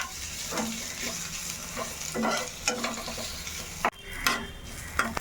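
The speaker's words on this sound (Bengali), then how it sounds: "এখন এর মধ্যে এই যে কাঁচা পেঁয়াজগুলো কুচিয়ে রেখেছিলাম, এইগুলো এখন একটু হালকা করে ভেজে নেব।" Chopped raw onions frying lightly in a little oil in a pan, a loud close sizzle broken by repeated scraping stirs of a utensil against the pan, with a sharp clack near the end.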